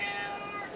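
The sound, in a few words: shelter cat meowing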